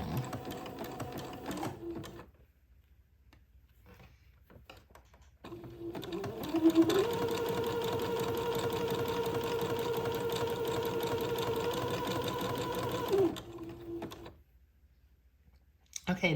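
A sewing machine zigzags entredoux lace onto a dress panel. A short burst of stitching is followed by a pause and then a long, steady mechanical whir that cuts off abruptly, with quiet handling on either side.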